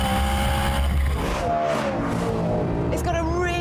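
A BMW M3 GTS engine and exhaust rasp loudly and steadily throughout, with a rising rev near the end, while a voice talks over it.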